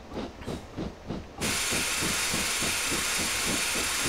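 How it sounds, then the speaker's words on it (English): Steam locomotive in Train Simulator 2018 with too much steam in the cylinders: rhythmic chuffing beats give way to a sudden loud, steady hiss that continues to the end, no voices. "Too much steam in the cylinders, Mark."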